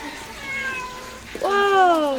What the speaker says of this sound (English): then I got distracted by these cats